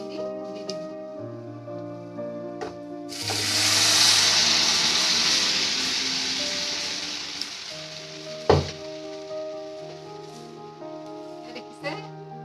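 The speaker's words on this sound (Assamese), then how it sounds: "এইখিনি ভজা হৈ গ'ল এতিয়া ইয়াত দালিখিনি দি দিম" Masoor dal poured into a pan of fried onion and garlic sets off a loud hissing sizzle that swells, then slowly settles into steady frying, with brief clanks and light talk around it.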